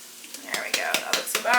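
Ground meat sizzles in a pan with taco seasoning while a utensil stirs and scrapes through it in quick, rhythmic strokes, close and fairly loud against a constant frying hiss.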